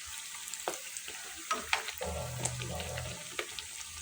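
Small flour-dough Danish pastries sizzle in hot oil, the steady frying hiss broken by soft clicks and scrapes as the pieces are turned one by one, close and quiet with no talk.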